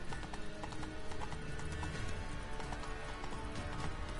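A horse canters in The Witcher 3 with rapid, steady clip-clop hoofbeats and a whinny, close and dominant, under faint game ambience.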